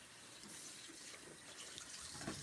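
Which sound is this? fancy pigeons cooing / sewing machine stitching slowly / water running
water running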